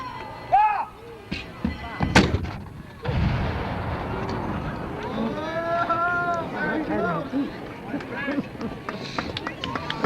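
Cannon blasts boom out at a battle reenactment, with a heavy crack near two seconds and another near three, then rumbling smoke-filled ambience and shouting voices throughout.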